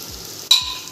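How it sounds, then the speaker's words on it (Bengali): Spices for dahi paneer frying in a pan as they are stirred, a sudden sharp sizzle bursting in halfway through a brief moment. "তো এবার এটাকে ভালো করে নাড়াও, একটু ভাজা ভাজা করো"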